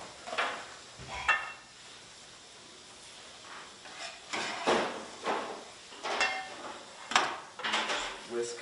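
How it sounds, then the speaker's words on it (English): Ingredients whisked in a bowl in a culinary school kitchen give irregular clinks and scrapes of a utensil against the bowl, coming in short bursts at moderate loudness with a faint murmur of voices. "whisk that up"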